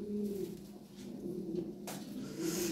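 A pair of black Lahori pigeons with red beaks coo close by in a low, throaty, repeated rhythm, with a short rustling scrape partway through and no voices.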